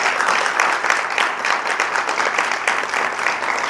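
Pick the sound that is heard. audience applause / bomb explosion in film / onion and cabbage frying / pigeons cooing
audience applause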